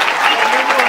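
Brief burst of dense audience clapping at a Brazilian comedy show, steady and loud for under a second with no voices on top.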